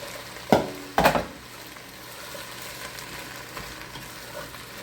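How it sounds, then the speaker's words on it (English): Mushrooms sautéing in a pan for beef stew, a soft continuous sizzle broken early by two sharp knocks of a utensil against the pan, then a quieter steady hiss. "I'm just going to let this saute for a few minutes or until it's to my liking"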